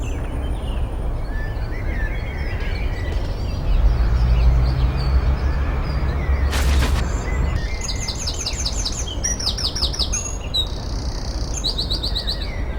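Birds chirp and sing among the graves of Tottenham's churchyard cemetery, where magpies are among the resident birds. Bright, repeated tweeting phrases come in bursts, fairly close, over a steady outdoor hum and a brief louder rumble.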